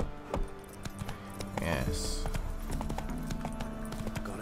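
Horse galloping in The Witcher 3: Wild Hunt, rhythmic hoofbeats running steadily under game sounds, with someone speaking briefly over them.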